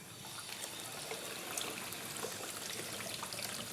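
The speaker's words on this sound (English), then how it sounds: "the quickest and easiest way is to just pour some cold water over the lid" Cold water pours and trickles steadily onto a metal pressure cooker lid, a continuous splashing stream with light spatters, close and fairly quiet, no one speaking.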